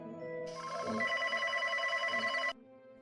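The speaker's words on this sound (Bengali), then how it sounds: "ফোন তো বেজে যাচ্ছে, ফোনটা ধরছে না কেন?" A telephone ringing with no answer late at night, a bright steady electronic ring tone lasting about two seconds over a soft lower hum, then cutting off abruptly.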